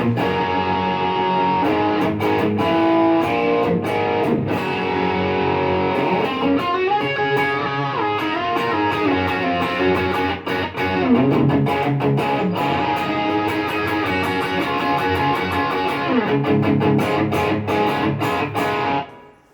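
A heavily distorted electric guitar, a PRS SE Standard 24 through a BOSS ME-80 effects unit, plays loud chords and riffs continuously, with no talking.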